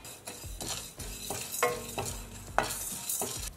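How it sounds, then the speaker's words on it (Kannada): Rice, fenugreek seeds, black peppercorns and cinnamon pieces dry roasting over a low flame, with a spoon scraping and stirring in quick, irregular strokes and a soft rattle of grains close by, no voices. "ಹದವಾಗಿ ಲೋ ಫ್ಲೇಮಲ್ಲಿ ಹುರ್ಕೊಳ್ಳೋಣ."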